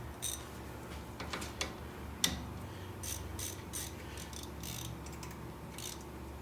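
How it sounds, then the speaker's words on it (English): A 3/8 inch ratchet with a 13mm socket tightens bolts on a Ford Explorer wheel hub assembly, producing faint, close, steady clicking strokes in short runs over a low background hum. "3/8 ratchet."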